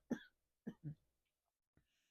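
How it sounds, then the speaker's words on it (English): A faint, close cough comes in a short burst, then a quick double cough and a tiny throat sound near the end, each set apart by quiet. "Excuse me, I'm going to cough."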